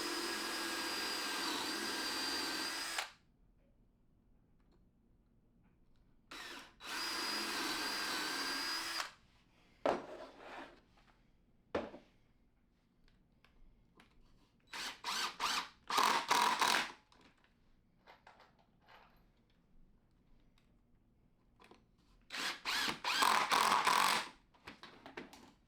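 A power drill drives long wood screws into 2x4 bench legs in repeated bursts of whining spin, some long and steady, others short stuttering pulses, separated by quiet gaps.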